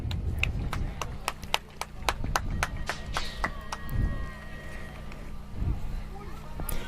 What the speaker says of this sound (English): Big round of applause for him getting back up.